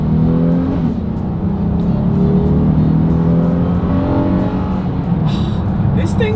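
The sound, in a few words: 2026 Honda Odyssey minivan accelerating hard in sport mode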